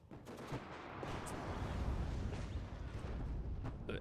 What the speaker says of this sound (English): Roland 3's getting shot at right now.